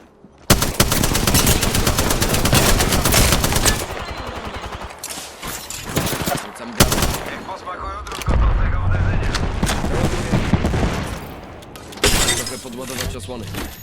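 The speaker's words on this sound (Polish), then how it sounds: "Strzelają do mnie." Gunfire in Apex Legends on Xbox Series X: loud bursts of rapid automatic shots broken by short pauses, with sharp single cracks and shattering impacts.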